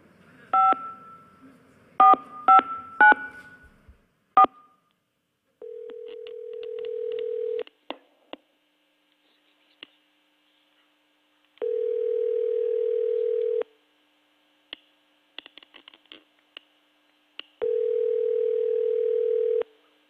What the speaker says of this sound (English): I'm going to dial a number now.